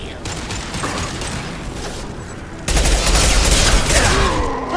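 Rapid pistol gunfire in the sci-fi shooter Mass Effect 2, a dense, loud volley of shots with combat noise, growing heavier partway through.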